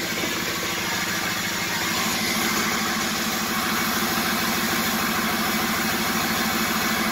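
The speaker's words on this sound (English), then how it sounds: "It's typical for a cold start with a diesel." Ford 6.0 Powerstroke diesel engine on a flatbed truck idling just after a cold start, a loud, steady, rough clatter that runs unbroken and close throughout.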